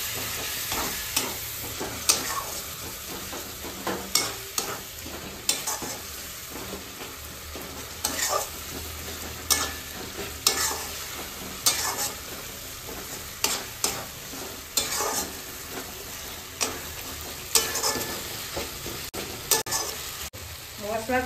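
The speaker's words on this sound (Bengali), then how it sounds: "ওই জন্য সামান্য একটু জল দিয়ে দিলাম।" Spiced masala sizzles and fries steadily in a pan after a splash of water is added, with repeated sharp scraping stir strokes every second or two, close and loud, with no talk.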